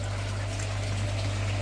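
Fresh water pours steadily into a fish tank, a continuous close splashing rush with a low constant hum underneath and no break.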